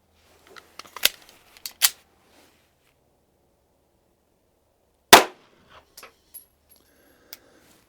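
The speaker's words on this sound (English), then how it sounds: "loading the 9mm Luger with these 124 grain Sierra V-Crown bullets, I'm going to go ahead and shoot these first" Three sharp, fairly distant gunshots from 9mm Luger handloads with 124-grain Sierra V-Crown bullets at a shooting range, spaced irregularly, with a few light clicks and handling taps between them.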